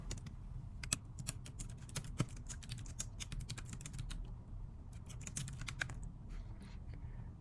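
Steady typing on a computer keyboard, with close, fast keystrokes in irregular bursts across the whole stretch over a low background hum.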